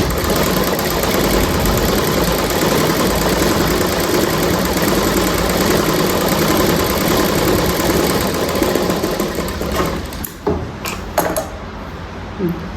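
Electric sewing machine stitching piping onto a blouse sleeve: a steady, loud mechanical whir runs unbroken for about ten seconds, then stops, leaving a few soft clicks and handling noises.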